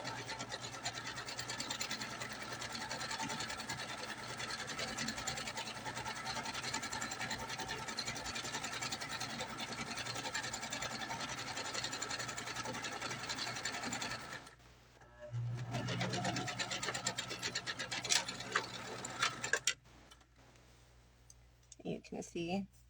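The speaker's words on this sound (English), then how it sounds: "Back stitching at both of those ends of the opening." A sewing machine runs steadily for about fifteen seconds, back stitching the ends of a pocket opening on fabric, then stops briefly and resumes in shorter bursts, with a voice talking over it.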